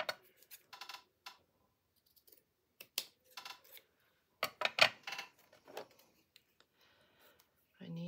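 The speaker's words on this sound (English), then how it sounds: "Let's cut this and see." Scissors snip through lace in short, sharp bursts, several cuts spaced irregularly with quiet gaps, close by, and a brief voice at the end.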